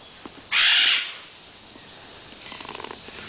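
A child imitates a parrot with a single loud, raspy squawk lasting about half a second, followed by quiet background sounds.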